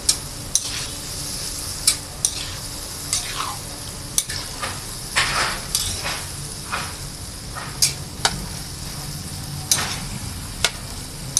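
Vegetables cook in a pan for fresh lumpia filling after a little water is poured in, giving a steady sizzle with repeated sharp ticks and scrapes of stirring throughout, close and moderately loud.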